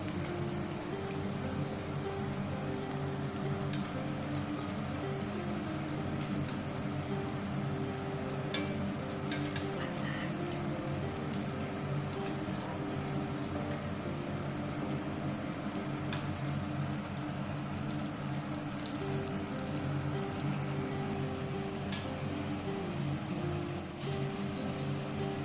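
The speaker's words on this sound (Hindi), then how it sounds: "उसके बाद उसे अलट पलट करके गोल्डन होने तक फ्राई होने देंगे।" Dough snacks deep-fry in hot oil, making a steady, dense sizzle and bubbling that stays loud and even throughout with no pauses.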